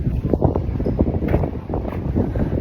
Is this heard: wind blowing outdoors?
yes